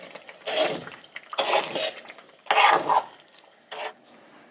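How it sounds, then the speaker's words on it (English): A spoon stirs a pot of Ghanaian chilli oil, shito, in four separate bursts of scraping and rubbing with short quiet gaps between them. The strokes are close and moderately loud, with a faint sizzle underneath. "you have to always keep stirring so you don't, you know, have burnt bottom"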